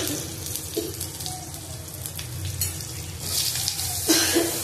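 Black cumin seeds hit hot oil in a pan where bitter gourd has just been fried, producing a close, steady sizzle with a few brief scrapes and clinks and a brighter crackle near the end.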